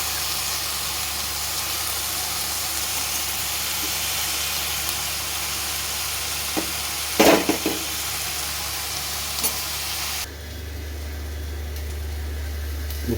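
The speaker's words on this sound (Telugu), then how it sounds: "ఇలా కొద్దిగా వేగిన తర్వాత ఇలా అరటికాయ ముక్కలు వేసి" Raw banana pieces frying with onions in a pan, a steady broadband sizzle running throughout, with a few louder stirring scrapes midway before the frying noise drops to a quieter hiss near the end.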